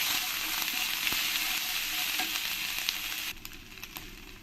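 Steady sizzle of khichdi frying in a pan as a spoonful of crushed, unpasted ginger goes in, broadband crackle running continuously and close, then dropping slightly quieter near the end.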